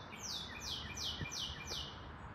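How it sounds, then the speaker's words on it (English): A bird sings five repeated downward-sweeping whistled phrases at an even pace, clear above steady outdoor background noise on a jog. "See if I can listen to this bird."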